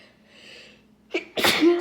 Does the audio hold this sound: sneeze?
yes